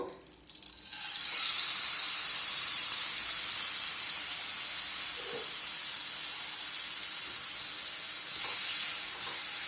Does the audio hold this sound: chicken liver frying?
yes